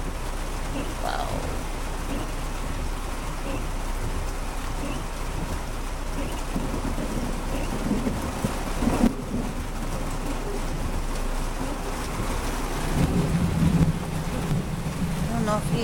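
Heavy rain pours down in a constant, dense hiss, with a low rumbling undertone of thunder throughout and a brief faint voice audible near the end.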